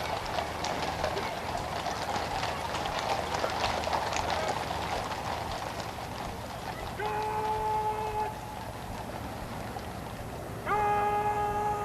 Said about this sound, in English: The familiar drum horses there leading the mounted bands into Horse Guards.